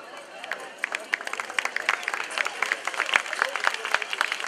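An audience applauds after a special award for originality goes to a Jewish community folk dance ensemble in Bucharest, brisk scattered clapping building in density, with some crowd noise beneath.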